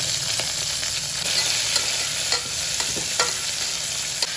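Chopped onions fry in hot oil with cinnamon and cloves for a chicken curry, giving a dense, even sizzle broken by occasional stirring clicks. It sounds close and constant, with no voices.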